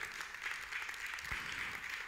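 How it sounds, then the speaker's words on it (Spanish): A church congregation applauds during a worship service, a steady, dense wash of clapping that holds at an even level for about two seconds with no talking. "Le hace aplauso al Señor."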